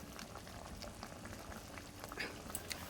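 Prawn malai curry simmering in a pan: a faint, continuous bubbling with small irregular pops and crackles, steady throughout and without talk.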